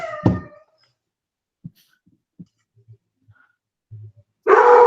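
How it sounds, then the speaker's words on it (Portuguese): A dog gives one sharp, loud bark, followed by quiet scattered small sounds and faint whimper-like bits, before a louder burst at the end. "alguém está tendo latido de cachorro"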